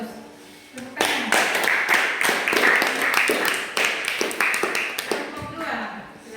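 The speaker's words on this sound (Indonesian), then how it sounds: "Tepuk tangan." Eighth-grade students clapping together in a junior high classroom, a sudden burst of brisk, fairly loud applause that starts after a brief lull, holds steady for several seconds, then thins out into scattered claps.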